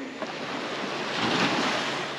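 Ocean surf breaks and rushes steadily onto a beach at a deep-water cut where people are surf fishing, a loud continuous wash with a swelling crest midway and some wind buffeting the microphone.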